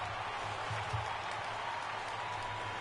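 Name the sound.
Mets fans applauding at Citi Field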